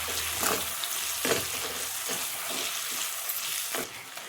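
Oil sizzles and fries steadily in a pan while a Telugu gongura meal maker pickle is cooked, with a continuous dense hiss broken by occasional stirring scrapes.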